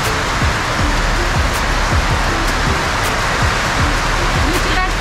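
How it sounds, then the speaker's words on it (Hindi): Heavy rain pouring down on a cloudy day in Delhi, a dense steady wash of close, loud noise with no let-up. "बारिश हो रही है भयंकर।"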